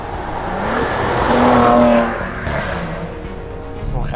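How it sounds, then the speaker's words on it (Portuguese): A 2014 Maserati Ghibli SQ4 revs hard through its gears, the exhaust note rising and dropping between shifts with brief crackles, loud and close, then fading slightly as it settles. "são explosões entre passagens de caixa"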